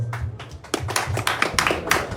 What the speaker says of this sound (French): Applaudis fortement.